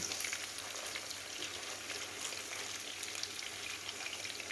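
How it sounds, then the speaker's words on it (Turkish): Onion frying in oil in a small pan, a soft continuous sizzle with faint crackles, fairly quiet and steady, no voices. "soğanı belə koydum, balaca tavada kızarmağa"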